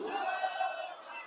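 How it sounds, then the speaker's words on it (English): Arena crowd roars and cheers at a WWE Raw wrestling show, a loud sustained wall of voices that fills the whole moment without a break. "the crowd's fucking lit for Oba"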